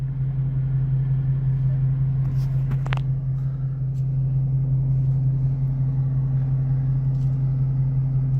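A muscle car engine in Miami traffic gives a loud, steady low drone with constant road noise under it, plus a brief higher squeak partway through.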